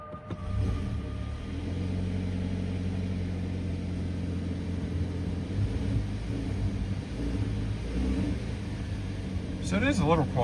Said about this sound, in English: I'm about to start the Kia up